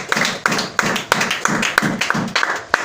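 Church congregation clapping in rhythm to acclaim Jesus, a steady run of sharp claps layered over a low sustained drone or hum, with no talk.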